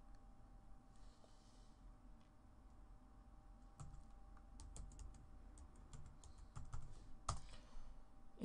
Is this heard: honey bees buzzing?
no